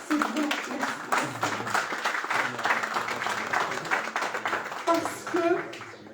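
An audience applauds a president at an inauguration ceremony, a steady wash of many hands clapping that lasts the whole stretch, with voices murmuring underneath.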